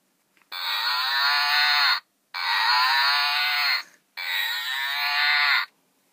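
A toy cow's electronic moo plays three times in a row, each a long, even, buzzy tone with short silent gaps between, close and clear.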